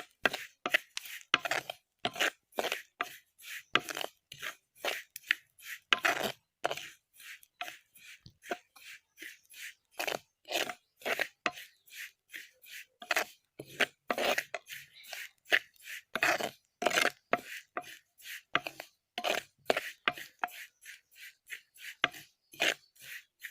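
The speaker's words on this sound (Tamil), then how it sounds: "இந்த மாதிரி சத்தம் கேட்கணும், நல்லா பொரியிற சத்தம் கேட்கும்போது நம்மளுக்கு நல்லா வாசம்" Sesame seeds dry-roasting in a pan for sesame powder give off a long run of dry crackles and scraping rustles. The bursts come close and steady, rising and falling in quick rhythmic waves, with no talking.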